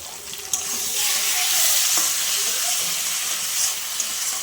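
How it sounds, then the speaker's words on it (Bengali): A tomato goes into a pan of sizzling snakehead fish curry with potatoes, giving a loud, dense, steady hiss of frying close up, with a couple of faint clicks from the pan. "এই সময় আমি এই যে টমেটো দিয়ে দিচ্ছি একটা"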